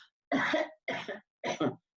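Three separate coughs, close and fairly loud, evenly spaced over two seconds, each with a double burst.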